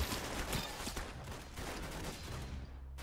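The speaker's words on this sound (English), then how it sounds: "I'm just randomly shooting." Rapid gunfire from weapons in the Roblox game Arsenal, a dense, continuous burst of shots running throughout at steady loudness, with no voice over it.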